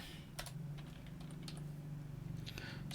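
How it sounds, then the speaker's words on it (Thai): Text being typed on a computer keyboard, a quick run of soft, close key clicks over a low steady hum. "ลองพิมพ์ข้อความดู"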